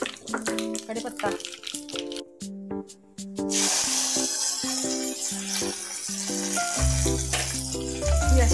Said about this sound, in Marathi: ही अशी टोमॅटोच्या चटणीला फोडणी टाकून घेतली.